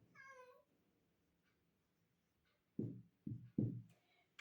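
A house cat meows once, close and clear, then after a quiet pause three low, breathy thumps or chirps follow in quick succession.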